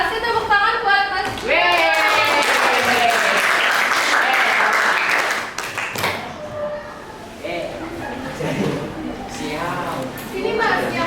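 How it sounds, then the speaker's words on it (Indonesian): A classroom of students claps for a classmate, a burst of hand claps mixed with overlapping chatter and talking voices that continue as the clapping dies away. "tepuk tangan buat Mas."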